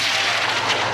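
A loud explosion outside during the 2014 Israel-Gaza conflict: a booming, broadband roar that fills the whole second close and heavy, with no talk over it.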